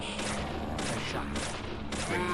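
A run of loud gunshots from the Deadly Premonition video game on Xbox 360, spaced roughly every half second over dense game noise, close and forceful, with no talking.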